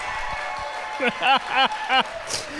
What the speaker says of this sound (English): Clapping, yes! Clap like I'm in the NHS, come on!